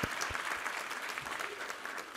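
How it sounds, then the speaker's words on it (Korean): A congregation at a Sunday church worship service applauds in a full, even round of clapping that fills the room and sustains throughout, with a few low thumps near the microphone and no speech over it. "우리 하나님께 감사와 영광의 박수 올려드리겠습니다"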